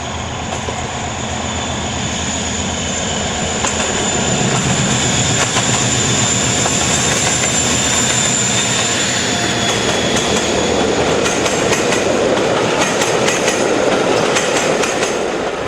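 A UK charter railtour train on the Return of the Legends tour passes close by, a loud continuous roar of wheels with rhythmic clickety-clack and some squeal, building slightly as it goes.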